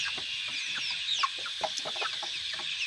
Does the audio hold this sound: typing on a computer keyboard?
no